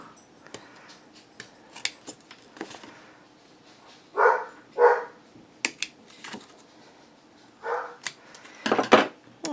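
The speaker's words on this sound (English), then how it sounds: "The dogs are going crazy now." Dogs bark in a house during a paper crafting session, sounding in several loud bursts spread across the clip, with quieter scattered clatter and snips around them.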